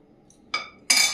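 Cutlery and dishes clink twice as fried radish is served onto a plate for a vegetarian rice meal, the second clatter brighter and longer than the first, close up with no talk.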